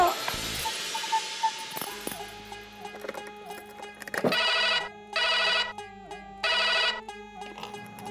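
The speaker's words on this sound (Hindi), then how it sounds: "अंजू को फोन करी हूँ, सुन ले।" A phone ringtone plays in repeated bursts with short gaps between them, loud and close, after a few scattered knocks and clatters at the start.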